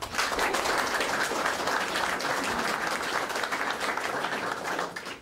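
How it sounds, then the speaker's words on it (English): Applause at a museum exhibition opening, a steady broadband wash of many hands clapping together that holds evenly for about five seconds with no voices over it. "I think they deserve a round of applause."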